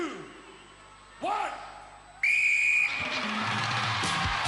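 Sharp referee whistle blasts at the start of an event on the 1995 UK Gladiators television show, with a crowd roaring loudly behind them and a commentator talking.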